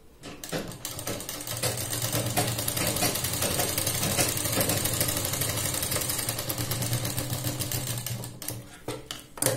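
A sewing machine runs a straight seam on a blouse, its needle chattering in a fast, steady rattle for several seconds before slowing and stopping.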